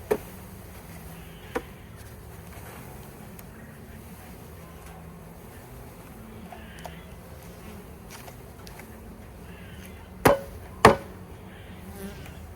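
Honeybees from a package being dumped into a hive, a faint, steady buzzing hum throughout with a few sharp knocks and thumps near the start and toward the end.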